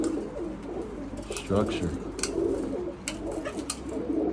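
Pigeons cooing, medium-sized birds, with soft low coos and a few sharper chirps close by, while someone talks briefly over them.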